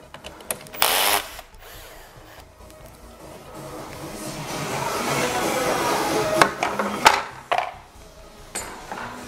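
A power tool removes bolts from a Lexus SC430 during subwoofer removal, with short buzzing bursts and a longer whirring run in the middle over faint garage noise.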